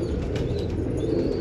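Domestic desi pigeons kept by a longtime pigeon fancier coo softly at close range, with faint wing flutters and a low, steady murmur behind them.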